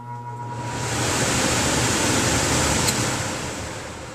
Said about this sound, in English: there's a great big furnace fan there